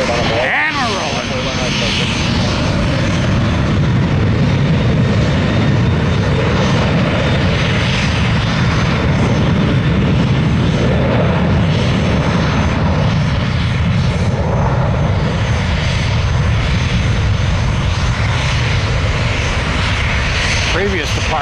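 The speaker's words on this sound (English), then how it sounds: "Previous departure was also an exec jet." An executive jet takes off from Tampa airport, its engine roar loud and sustained for the whole stretch, a broad steady rumble with no break.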